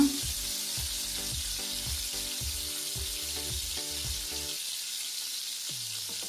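Garlic and turmeric fry in oil for a mushroom gravy, giving a continuous close hiss of sizzling under a steady rhythmic musical backing that stops near the end.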